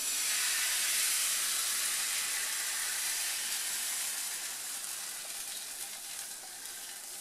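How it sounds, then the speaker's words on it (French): Crêpe batter hits oil in a hot pan and is spread out, giving a steady, loud broadband sizzle and hiss that eases slightly toward the end, with no voices. "je verse directement ma pâte dedans en l'étalant bien"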